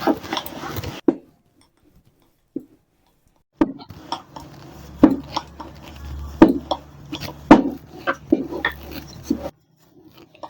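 A rolling pin working a ball of dough thin on a board for salty snacks: irregular knocks and dull thumps after an opening burst of rubbing, with short pauses between strokes and no talk.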